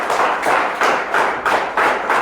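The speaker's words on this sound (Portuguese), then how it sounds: "Uma salva de palmas para o Senhor." A church congregation claps in rhythm, steady regular bursts of hand claps repeating about every third of a second, fairly loud and filling the room with no voices over them.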